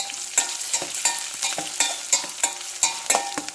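Curry leaves sizzle and crackle in hot oil with green chillies while a curry of potato, gram flour and tomato is cooked, the frying steady and close with repeated stirring scrapes at a regular rhythm, no voices.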